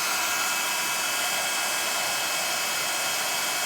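A heat gun blows steadily while heating embossing powder, a loud, constant hiss of rushing air with no change in pitch and no talking.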